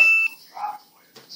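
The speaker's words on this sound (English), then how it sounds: "sorry, that was my phone." A phone alert sounds as a single steady electronic beep, followed by faint short chirps and soft rustling, close and brief, alone without speech.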